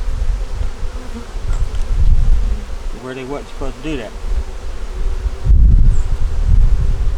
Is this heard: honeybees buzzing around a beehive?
yes